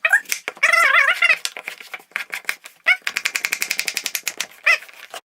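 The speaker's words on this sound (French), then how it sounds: "Voilà notre ami la courgette et on coupe." A knife chops a courgette on a cutting board in quick, loud, evenly spaced strikes, with a long steady run of chops near the end. Shorter irregular bursts come between the runs.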